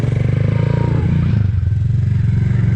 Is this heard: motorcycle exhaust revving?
yes